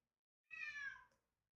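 A house cat gives a single clear meow lasting about half a second, close and distinct against near silence, while kept indoors and wanting to go outside.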